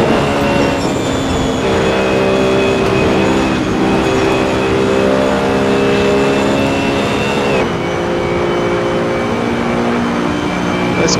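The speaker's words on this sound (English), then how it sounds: "Nice quiet engine." A race car engine at Spa in Assetto Corsa drones loud and steady throughout, with strong sustained tonal harmonics that shift slightly in pitch as it holds speed and no talking.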